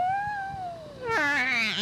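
A human voice imitates a cat meowing with one drawn-out, wavering meow that falls in pitch and then rises into a strained, whiny cry.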